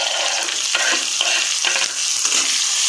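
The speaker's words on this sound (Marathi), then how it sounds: "थोडे लसणाचे तुकडे फ्राय होऊ देऊ आपण" Garlic pieces sizzling steadily in a pan while being stirred, a loud continuous frying hiss with faint scraping, no voices.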